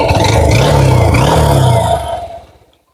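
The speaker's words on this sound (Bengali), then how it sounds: "আমরা বাইকের সাউন্ডটা শোনানোর চেষ্টা করব।" A Honda X-Blade motorcycle runs with a mid-pitched engine note that rises and dips slightly as it is revved, heard close and alone, then fades away quickly toward the end.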